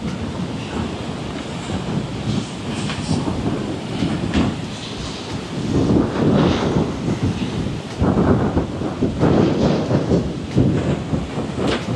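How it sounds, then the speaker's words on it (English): Strong wind roars in continuous gusts, loud and rumbling, with surging surf-like swells and no one talking. "Wow, it's windy."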